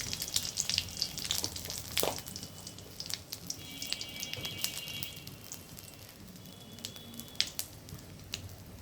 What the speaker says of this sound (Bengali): ফোড়নে আমি দেব দুটো শুকনো লঙ্কা, একটা তেজপাতা আর 5 ফোড়ন।